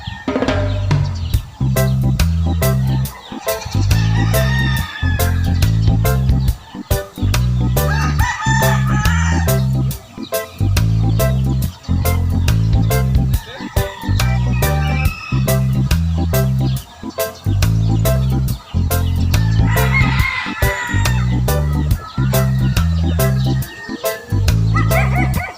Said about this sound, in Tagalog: So ayan mga kasabong, so magpapakain tayo ng mga manok